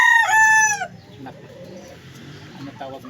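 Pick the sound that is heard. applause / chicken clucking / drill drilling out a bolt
chicken clucking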